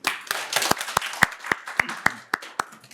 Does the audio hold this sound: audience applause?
yes